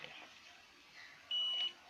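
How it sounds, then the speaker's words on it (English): A multimeter set to continuity mode gives one brief, steady electronic beep lasting under half a second, close and clear over a quiet room, during a remote control key repair. "I have a multimeter here. I'm going to use, I've set a beep here."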